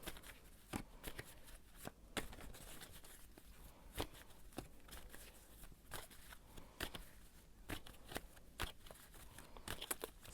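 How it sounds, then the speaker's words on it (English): Tarot cards shuffled by hand, a quiet papery riffling with sharp irregular snaps and flutters repeating steadily throughout, close and alone with no talking. "I'm gonna shuffle some more cards."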